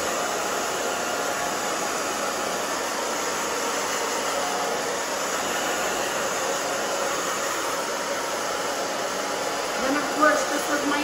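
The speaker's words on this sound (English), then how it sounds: "Okay, so the back I'm just going to dry down." A hair dryer blows steadily and close up while drying a short bob hairstyle, a continuous airy whoosh with a brief bump near the end.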